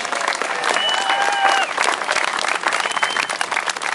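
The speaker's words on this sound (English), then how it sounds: "please put your hands together and give these people a big round of applause" An awards crowd at the Doncaster Bunny Run 2010 breaks into steady applause, dense clapping filling the room at close range with a few voices and whoops mixed in.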